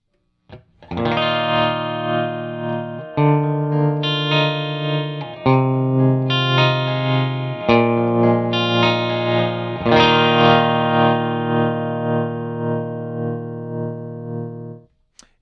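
Electric guitar played through a Wampler Latitude Tremolo Deluxe pedal, loud sustained chords struck about every two seconds, each ringing out under a pulsing tremolo volume swell, with no talking.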